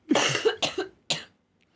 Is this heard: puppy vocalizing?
no